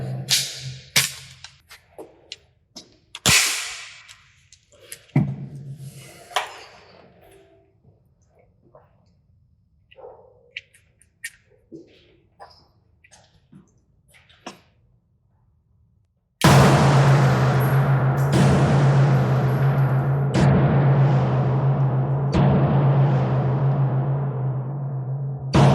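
Sharp gunshots from a Smith & Wesson EZ pistol, 9mm or .380 ACP, fired at a paper target, with a few loud isolated reports early on, then a dense sustained rumble carrying through to the end.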